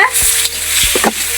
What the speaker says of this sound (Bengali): তো এসে দেখি ভাইয়া রান্না করছে